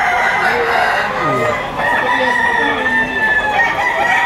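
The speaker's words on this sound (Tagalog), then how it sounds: "Ang dami manok pa dito." Many chickens crowing and clucking at once at a busy poultry market, a dense, loud chorus of overlapping calls with roosters standing out, continuous throughout.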